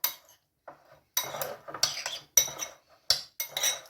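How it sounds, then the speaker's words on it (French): Dried fruit being stirred with a splash of Cointreau in a bowl, heard as a series of close, uneven clinks and scrapes of a utensil against the dish, in short bursts with brief pauses. "Vous mélangez."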